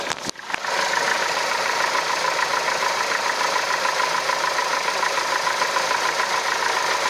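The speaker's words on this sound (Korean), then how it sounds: "자 이렇게 엔진룸 열어봤고요 엔진 소리 한번 들어볼게요" A Samsung SM5 Platinum mid-size LPG sedan idles with its hood open, a smooth, steady, quiet engine hum heard up close after a brief clunk at the start.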